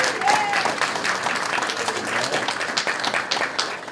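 A round of applause from an audience at a university arts building grand opening ceremony, steady, dense clapping throughout without talk.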